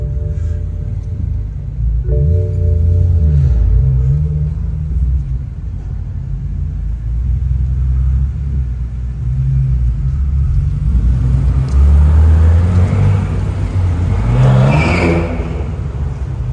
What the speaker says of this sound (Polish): Fajnie u Andrzeja słychać to turbo przez te przeloty